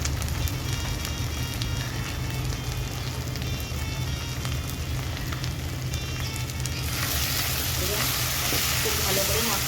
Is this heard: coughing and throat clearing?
no